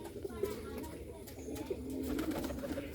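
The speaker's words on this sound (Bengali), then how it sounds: "তারপর ওই দেখুন রাজশাহী গিরিবাজও ডাকতেছে" Rajshahi Giribaz and Bombai pigeons coo at a loft, low soft rolling calls repeating near the microphone over faint background noise.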